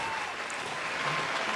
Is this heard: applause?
yes